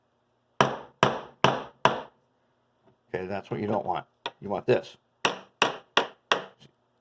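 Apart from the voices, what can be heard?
hammer striking metal anvil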